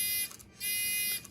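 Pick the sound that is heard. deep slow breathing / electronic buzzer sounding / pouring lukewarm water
electronic buzzer sounding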